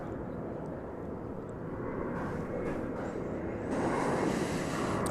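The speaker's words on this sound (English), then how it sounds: "That is a 737-800, and that is going to Kansas City, Missouri." An American Airlines Boeing 737-800 jet rumbles from a grassy rise overlooking the runways at DFW Airport. The broadband engine roar is steady at moderate distance and swells louder toward the end, with some wind on the microphone.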